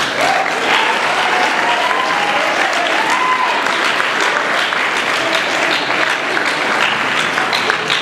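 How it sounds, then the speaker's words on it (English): A crowd at an awards ceremony applauds steadily, dense overlapping claps holding at a loud, even level throughout, with faint cheering voices mixed in. "So let's just give Aaron a round of applause."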